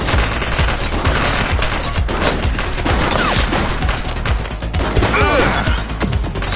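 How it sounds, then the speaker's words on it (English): Dense, loud gunfire from the police video game The Precinct, with overlapping rapid shots and crashes running throughout and brief voice fragments mixed in. "She's shooting!"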